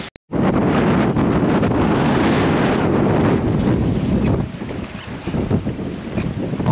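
Strong wind roars across a small fishing boat on Southampton Water, buffeting the microphone loudly and continuously before easing slightly toward the end, with faint water sounds beneath.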